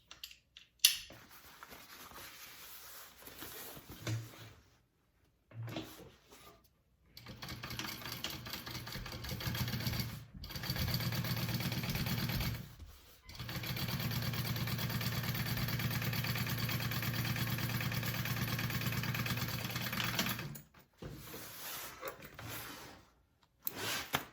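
Sewing machine top stitching a handbag, a steady mid-pitched mechanical whir running in long sustained stretches, broken by brief silent pauses and short starts.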